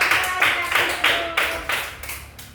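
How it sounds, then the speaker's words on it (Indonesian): A short burst of clapping from a classroom group, rhythmic and fairly close, with no talking. "mari kita beri tepuk tangan untuk kelompok 4"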